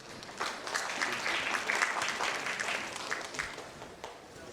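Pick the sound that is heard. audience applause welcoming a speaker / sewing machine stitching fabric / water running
audience applause welcoming a speaker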